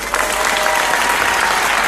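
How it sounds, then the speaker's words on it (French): Loud, dense applause from a French television studio audience greeting Madonna, a continuous roar of clapping close and bright. "On applaudit très très très fort."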